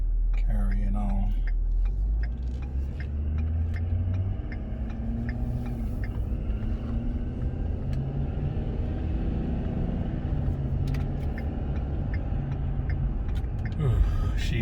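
A cold Ford F350 truck engine idles while warming up, a steady low rumble close by that runs the whole time without pause.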